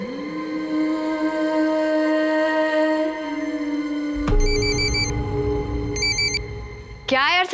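A telephone rings in two short electronic trilling bursts inside a Hindi crime drama scene, over a steady musical drone, with a rising synth flourish at the end.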